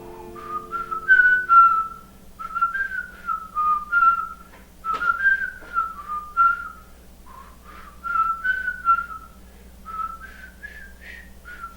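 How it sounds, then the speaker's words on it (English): A person whistles a melodic tune along to mantra music, in phrases with short pauses, over a faint low steady hum. "if you could actually whistle, this is what it sounds like."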